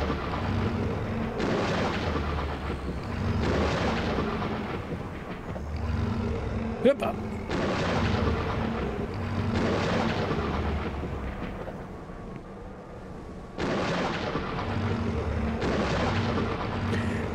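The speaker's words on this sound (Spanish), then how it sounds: "¿Por qué suenan tantos relámpagos aquí?" Deep, thunder-like booms roll through a scene in the video game Ecstatica 2, arriving in heavy rumbling bursts a few seconds long with short pauses between them. A man briefly exclaims.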